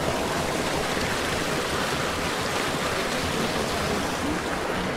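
Water diverted around a turbine runs beside it in a loud, steady rushing stream, a continuous broadband roar that fills the scene with no talking.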